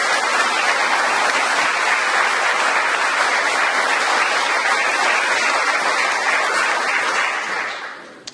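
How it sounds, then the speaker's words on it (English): Sustained applause from an audience at a college awards ceremony, dense and loud for several seconds before tapering off at the end. "please give them a round of applause to show your appreciation"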